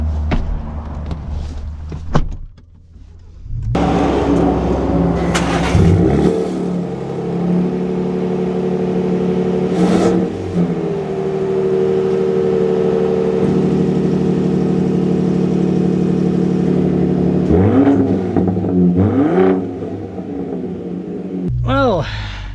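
A 2025 Ford Raptor truck with the EcoBoost engine drives and accelerates, giving a loud, steady engine rumble that holds for most of the stretch and swells as it revs, with no talking.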